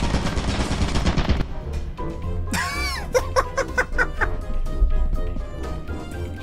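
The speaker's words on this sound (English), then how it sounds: "There's a machine gun." Machine gun fire in Lethal Company, heard as several sharp bursts of shots in the middle and later part, mixed with chaotic in-game noise and tones and with voices laughing and reacting throughout.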